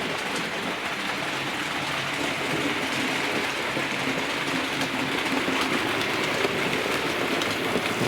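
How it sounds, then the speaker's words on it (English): Mallard and Flying Scotsman steam locomotives haul passenger trains round on Boxing Day, a steady rumbling rail roar with faint rhythmic clatter of wheels, heard from a distance without talk. "The locos going around."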